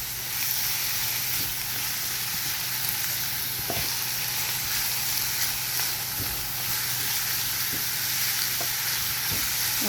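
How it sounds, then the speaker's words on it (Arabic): Peppers and other ingredients sizzle and fry in a pan for béchamel pasta, with a steady hiss broken by occasional scrapes and knocks of stirring. "هننزل حبه فلفل. تقلبي كل ده مع بعضه"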